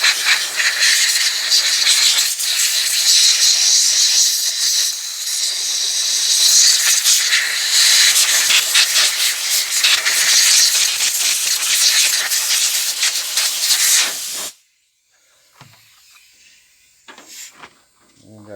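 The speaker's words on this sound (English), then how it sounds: "we might have to turn the air compressor on" A strong blast of compressed air hisses through a 1986 Honda TRX350 carburetor for about fourteen seconds, loud and steady, then stops sharply, leaving faint clicks and handling noises.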